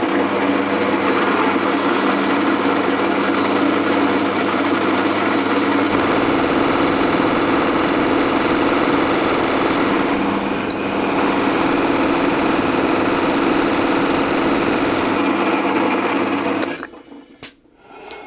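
A drill press drilling pilot holes in metal: a loud, steady mechanical whine and drone runs continuously for many seconds, then cuts off abruptly near the end with a brief clatter.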